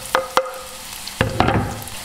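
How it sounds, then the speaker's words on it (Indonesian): Onion and garlic sautéing in oil for a soup, heard as a close background sizzle broken by a few sharp metallic clinks and scrapes of stirring against the pan. "Kita akan tumis dia dulu semua sampai garing."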